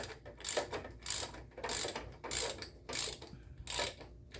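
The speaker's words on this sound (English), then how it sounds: "You stick your spark plug socket on there. Bring it till it hits the head." A spark plug socket wrench ratchets as it tightens the spark plug on a John Deere S130/S140/S180 lawn tractor, giving about seven rhythmic bursts of close, crisp clicking with short pauses between them.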